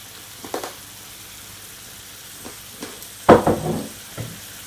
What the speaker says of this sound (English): I'm gonna add some teriyaki marinade on my shrimp and on my steak.